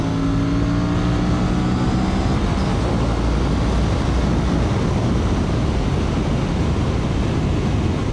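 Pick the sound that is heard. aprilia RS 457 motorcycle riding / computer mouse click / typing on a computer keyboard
aprilia RS 457 motorcycle riding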